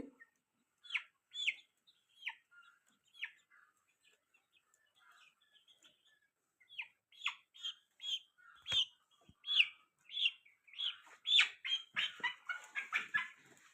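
Chickens being vaccinated against Ranikhet disease give scattered clucks and short calls, sparse at first and then busier and overlapping toward the end, fairly faint in a quiet setting.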